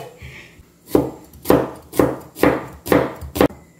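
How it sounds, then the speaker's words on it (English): Knife chopping onions and garlic at a rural island home kitchen in Palau, five firm, evenly spaced chops on a cutting board, close and fairly loud, with no talking. "So we're going to chop some onions and garlic"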